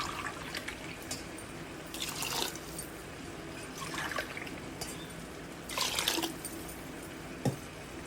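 Water pours and trickles into a pot of rice for biryani in several short bursts, fairly quiet and close, with a small clink near the end and no voices.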